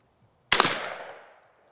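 A single loud gunshot fired at a turkey during a youth turkey hunt, with a sharp blast and a decaying tail that fades over about a second, heard alone.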